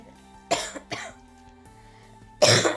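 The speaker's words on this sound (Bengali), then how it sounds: "দেখেছো কাশি হয়েছে কত" A sick young girl with a cold coughs three times close to the mic, short harsh bursts spaced unevenly with quiet gaps between.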